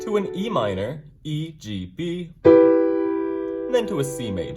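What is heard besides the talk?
No distinct noise like a dog, phone or traffic.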